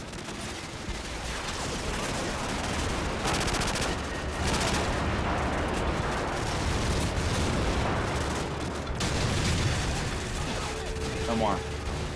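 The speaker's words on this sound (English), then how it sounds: "Target confirmed. Stand by for airstrike." Battle in Call of Duty 4 with airstrike explosions, dense continuous gunfire and booming blasts forming a heavy, chaotic roar that persists throughout.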